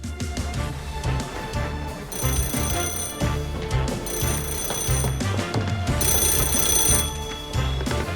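A telephone rings in an office, its bright repeating electronic trill sounding loud and steady in bursts over a busy musical backdrop, with no voices.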